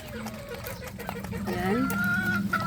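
White Kelso golden gamefowl chickens cluck from a pen, with several short, close calls rising into longer drawn-out clucking toward the end.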